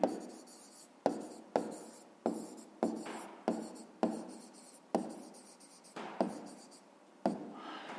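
Chalk or a marker strikes and scratches across a school board in about a dozen short strokes, each starting with a sharp tap and fading, close and fairly quiet with no voices.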